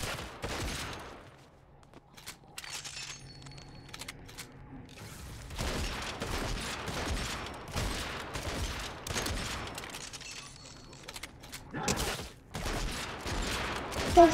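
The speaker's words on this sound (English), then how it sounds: "My bullets are shooting" Rapid bursts of gunfire in Fortnite crack out in dense repeated volleys over about fourteen seconds, sharp and close, with mechanical clicks between bursts and a faint voice underneath.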